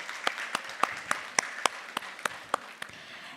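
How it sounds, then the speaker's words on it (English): Applause from a conference audience at a Women in Construction event: a quiet wash of clapping with distinct, evenly spaced sharp claps standing out above it. "let's also give a huge round of applause to all our speakers"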